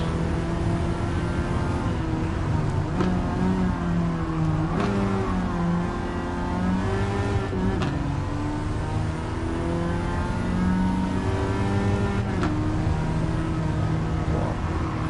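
A Peugeot car engine in a Gran Turismo 7 race holds steady, loud revs with rising and falling harmonic sweeps as it accelerates and shifts, running continuously close up with no talk.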